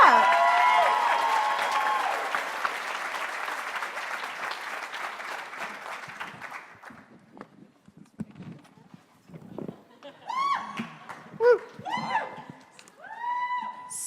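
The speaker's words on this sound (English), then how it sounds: "obviously everyone's applauding" An audience applauds at a Siren panel at New York Comic Con, loud dense clapping that slowly fades out, then scattered voices and faint crowd noise follow.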